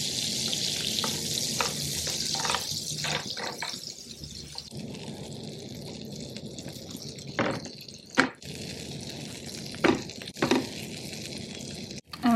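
Food fries in butter and olive oil on a grill pan with a continuous sizzle, scattered spatter pops and a few clinks and scrapes; no voices.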